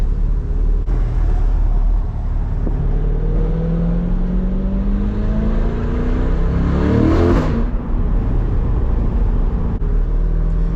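A loud C8 Corvette engine accelerates hard through a tunnel, its rising revs sweeping upward in steady pulls before a brief peak, with enclosed echo and continuous drive rumble throughout, no talking.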